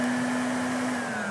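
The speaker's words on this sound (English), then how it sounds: "Yeah, that's no louder than a house vacuum." A Channellock VWM510 wall-mount shop vacuum, a 5-gallon 5 HP unit, runs steadily and fairly loud, a constant motor whine with broadband airflow rush and no break.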